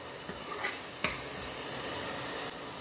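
Tadka tempering for a ridge gourd (tinda) curry frying in oil while being stirred, a steady close sizzle with a few sharp scrapes of the spoon against the pan and no talking.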